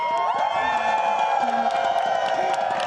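A UK cheering section roars at the Overwatch World Cup esports event, a loud continuous crowd cheer with whoops and shouting voices close to the microphone.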